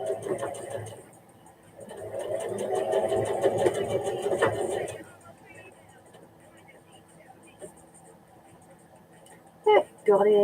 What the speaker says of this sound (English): let me just run a stitch over that little bit there